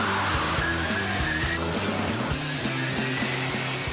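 A G-Wiz electric car on fat Formula 3 racing tyres and a Mustang launch in a drag race. A loud, rhythmic engine note pulses steadily under a faint high whine.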